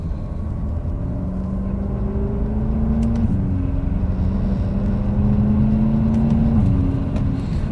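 A BMW F10 M5 accelerates hard in its most aggressive shift setting, the engine rising in pitch, then dropping abruptly at each quick gear change, with steady road and cabin noise underneath and no talking.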